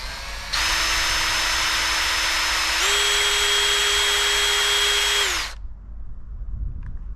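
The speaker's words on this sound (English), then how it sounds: "All you need to do is get that rivet, line it up with the drill." A power drill bores out a rivet holding a light fitting in an Adria Twin camper van, running as one loud, steady whine for about five seconds with a brief rise in pitch midway, then stopping.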